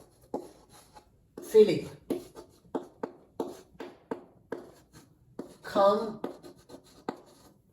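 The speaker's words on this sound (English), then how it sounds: "let me write this" A pen scratches across paper in short rhythmic strokes, close and steady, with brief spoken words breaking in twice.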